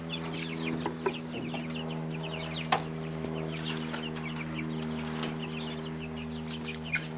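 Chickens cluck and chirp steadily in a chicken coop through the whole stretch, several birds close by, over a constant low mechanical hum.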